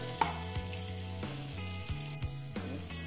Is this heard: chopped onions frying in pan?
yes